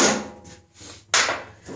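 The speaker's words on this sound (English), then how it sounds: "and then just knock that wedge in." A wooden wedge is knocked into a homemade all-wood bar clamp, giving two sharp, close wooden taps about a second apart, each fading quickly, with no talking.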